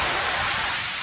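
Steady rain pours down in a dense, even hiss of drops, loud and close, without pause.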